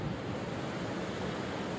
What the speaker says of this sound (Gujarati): જ્યાં સ્થાનિક નદીમાં પૂરની સ્થિતિ ઊભી થઈ હતી